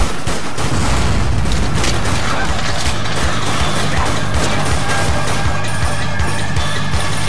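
Dense gunfire from the Dead Nation video game rattles on without a break as zombies are shot down, loud and packed with crashing impacts and booming hits. No voices come through over it.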